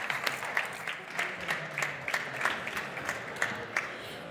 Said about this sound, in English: Please help me give a warm round of applause to Rosa.